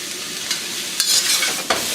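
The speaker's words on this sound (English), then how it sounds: "So give that a stir fry." Chinese rice cakes sizzle and crackle in a hot wok as they are stir-fried, with a few sharper scraping stirs cutting through the steady, close frying hiss.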